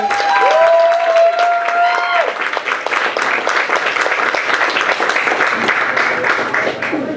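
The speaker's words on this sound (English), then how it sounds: "Applause for Cara Parker, ladies and gentlemen" Audience applause at a comedy-poetry show for poet Cara Parker King, loud and sustained from a crowd, with a brief tonal sound over the opening seconds before the clapping carries on alone.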